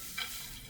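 Onions fry in a pan with a faint, close crackling sizzle and one small brighter pop early on, all very quiet.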